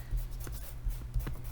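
A marker drawn across paper gives short scratchy, rubbing strokes in quick succession, close and fairly clear.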